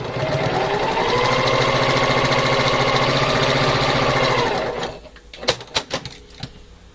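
A sewing machine runs steadily through quilt fabric for about five seconds, a continuous mechanical whir, then stops, followed by a few brief clicks and handling knocks close by.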